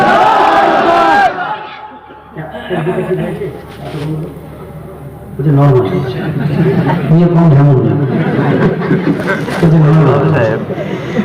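A large crowd at a religious gathering chants the takbir in loud, rising collective shouts, several waves of massed voices following one another, with a voice heard near the start.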